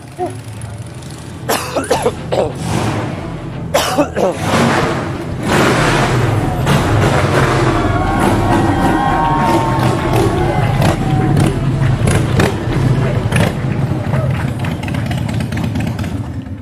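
A motorcycle engine rumbles and idles nearby, with sharp pops and thumps early on before the engine settles into a steady drone.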